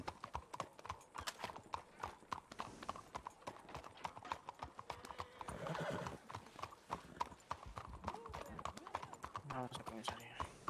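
Horse hooves clip-clop rapidly and continuously in a ranch roleplay video game, with a brief whinny midway, while people talk over the hoofbeats throughout.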